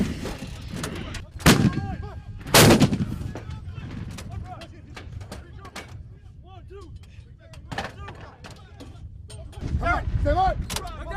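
Weapons firing during a paratrooper training drill in a simulated crisis; a few loud sharp shots with ringing tails, some distance off, under shouted commands.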